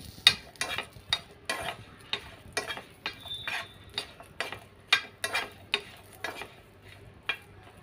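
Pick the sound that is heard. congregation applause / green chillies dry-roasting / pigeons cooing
green chillies dry-roasting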